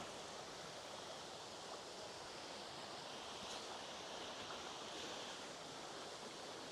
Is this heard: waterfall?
yes